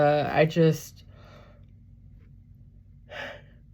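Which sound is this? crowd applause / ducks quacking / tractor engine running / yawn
yawn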